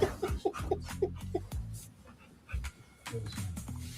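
A dog whimpers and yips in a rapid run of high, short cries, then pants and whines again amid some background movement.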